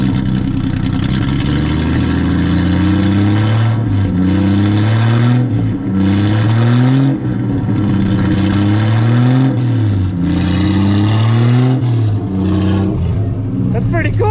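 A rare Triumph TR250, pulled from a junkyard after 40 years of sitting, revs repeatedly up close, each loud rising swell of engine pitch dropping back before the next, with occasional talk over it.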